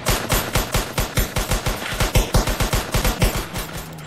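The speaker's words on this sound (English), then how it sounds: "Shots fired! Shots fired!" Rapid automatic gunfire in a police roleplay video game, a loud, close, continuous burst of evenly spaced shots lasting the whole clip with no talking over it.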